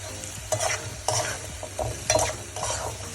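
Tomatoes for an egg curry sautéing in a pan, a steady sizzle broken by four distinct scraping stir strokes of a spatula at roughly even intervals, close and moderately loud with no talk.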